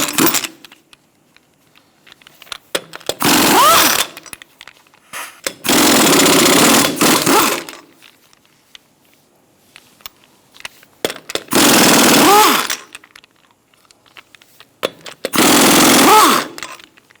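An impact or power tool works lug nuts off a 2002-2006 Toyota Camry front wheel in four loud, close bursts of rattling hammering, each about one to two seconds long, separated by quiet pauses.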